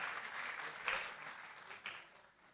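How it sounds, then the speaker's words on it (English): An audience at a university inaugural lecture applauds the sign language interpreter, a steady wash of clapping hands that holds for a couple of seconds, swells briefly, then begins to taper off. "Let's give him a round of applause."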